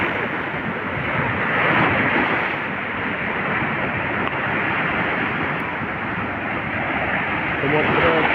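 Rough sea surf rolls in at Kuakata beach in Bangladesh, a continuous roar of breaking waves mixed with wind buffeting the microphone, steady and loud throughout.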